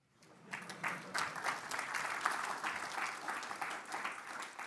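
An audience at a tech conference session bursts into applause, swelling quickly from silence into a steady mass of clapping hands that holds at a moderate level, somewhat distant, with no talking.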